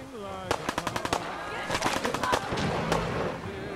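Rapid bursts of gunfire from the Fallout 4 video game, a quick volley of sharp shots followed by scattered louder cracks over a busy game soundscape.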